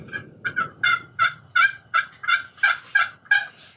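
A hunter's call imitating a turkey hen gives a run of about a dozen short, light yelps at a steady, quick rhythm, close and clear, with no talking.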